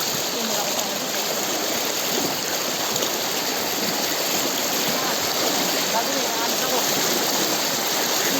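Rushing river water flows steadily and loudly, a continuous broadband hiss with no pauses.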